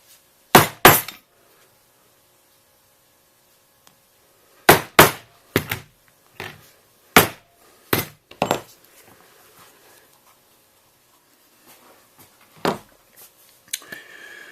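A slot being cut in a leather strap with sharp, hard percussive strikes, likely a punch or chisel being hammered, coming in a few close pairs and single blows separated by quiet gaps, with lighter taps later.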